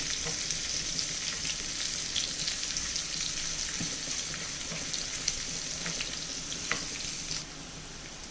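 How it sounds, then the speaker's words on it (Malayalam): Chopped shallots and dried chillies fry in oil in a pan, giving a continuous close sizzle with scattered scraping stir sounds, gradually easing toward the end with no voices. "ഇളക്കി ഇതൊന്ന് മൂപ്പിച്ചെടുക്കാം"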